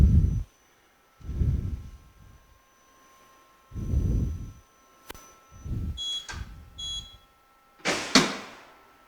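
Short high electronic beeps from an impact testing machine sound in pairs near the end, amid low thumps and mechanical bumps in an otherwise quiet lab.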